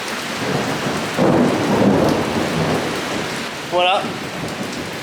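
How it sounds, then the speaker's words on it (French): Steady rain falls during a hike on a Central American volcano, a constant hiss with a soft rumble of thunder, a short spoken word and a brief chirping sound near the end. "On a juste pris un peu de pluie."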